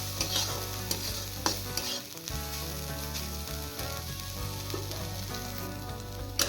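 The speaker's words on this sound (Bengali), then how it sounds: "কোনোটাই আমি ভাজবো না হালকা নাড়াচাড়া করে নামিয়ে দেবো" Fish roe with a generous amount of grated ginger sizzling and frying in a pan, stirred gently with steady scraping strokes over a continuous close, loud sizzle.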